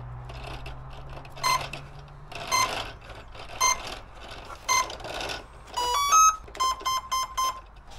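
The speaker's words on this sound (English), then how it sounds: "Let's power up the plane." An electric RC jet plane, the Eclipson Inferno, powers up with a string of clear electronic startup beeps, spaced singly at first and then in a quick rising run and a closing set of tones, close and alone.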